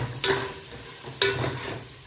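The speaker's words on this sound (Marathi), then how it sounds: "बघा कसले धडाधड मसाले टाकते मॅडम." Pav bhaji frying in a pan as spices go in, with two sharp scraping stirs about a second apart over a steady low sizzle.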